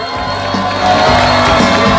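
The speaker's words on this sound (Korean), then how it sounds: "박수로 환영해 주십시오" Crowd at a Democratic Party public report rally in Ulsan cheering and clapping to welcome party leader Lee Jae-myung, a continuous roar that swells louder partway through.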